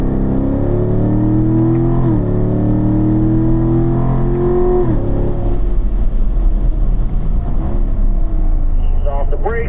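A Corvette on a race track accelerates hard downhill, engine tone climbing in rising harmonic sweeps with gear changes, loud and close inside the car, then settling into a rougher drone.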